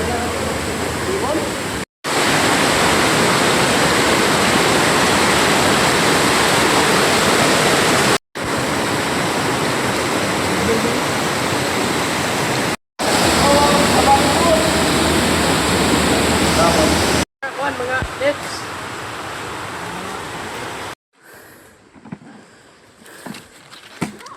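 Water flows steadily inside Songkaob Cave in Davao de Oro, a loud, broad rushing like a waterfall or stream that breaks off in several abrupt cuts and fades to quiet drips and scuffs at the end.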